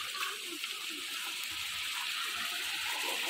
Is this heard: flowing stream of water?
yes